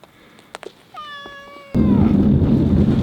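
A caged cat gives one drawn-out, tonal meow, followed by a sudden burst of loud broadband noise, with a few faint knocks just before.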